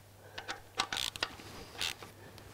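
Ratchet clicks while snugging the bolts during an oil and oil filter change, heard as short close bursts of metallic ratcheting with brief pauses between strokes, no talking.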